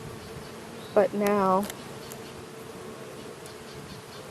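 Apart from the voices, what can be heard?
bees buzzing in a new hive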